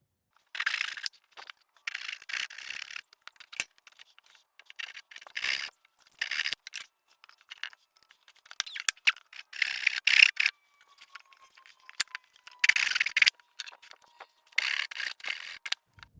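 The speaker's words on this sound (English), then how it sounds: "Just gonna cut these off," Dried wooden splines are trimmed off a veneer inlay keepsake box in short rasping cutting strokes with pauses between them, close and fairly quiet.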